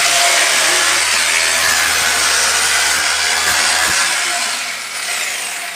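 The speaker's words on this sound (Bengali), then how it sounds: "এই যে আমরা ড্রিল করছি 1 ফুট বাই 1 ফুট।" A power drill bores holes in a one-foot grid across a building floor for termite treatment, giving a loud, steady grinding roar that runs continuously and fades slightly near the end, with no talking.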